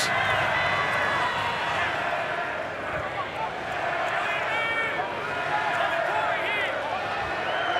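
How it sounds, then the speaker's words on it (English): Stadium crowd at an NRL rugby league match between the Dolphins and Canberra Raiders, a loud continuous roar and babble of many voices filling the whole stretch with a few swelling shouts. "Sounds like a soccer crowd."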